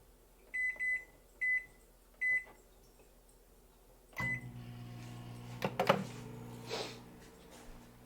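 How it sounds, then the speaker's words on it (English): Microwave oven in a kitchen beeping four times in short bursts, faint and fairly close, followed by a low hum and rattling handling sounds. "before I do that, I heard the microwave."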